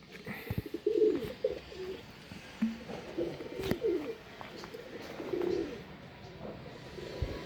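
Pigeons in a breeding setup coo in soft, throaty bursts, several low calls spaced irregularly over a quiet background with occasional thumps nearby.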